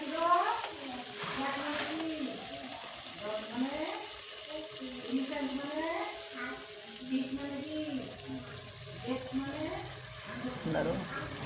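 Chicken gravy sizzles and bubbles in a pan while it is stirred, a steady wet frying hiss with scraping, under ongoing talk close by.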